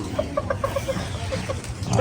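Chickens cluck in a freshly set-up coop, a string of short, repeated, moderately close clucks with a low background hum underneath.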